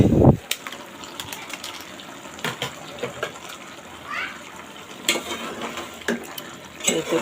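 A spoon stirs and scrapes through katla fish and ash gourd curry being sautéed in a pot, with sporadic clinks, wet churning and a brief splash of water, heard close.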